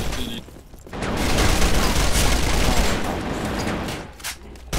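Dense rapid gunfire from SMGs and AK rifles in the online shooter Arctic Combat, a sustained loud volley building after the first second and tailing off near the end.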